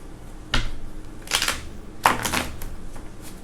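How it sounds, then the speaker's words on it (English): Tarot cards riffled close by in a few quick, crisp bursts, separated by short pauses. "Hold on, one more shuffle."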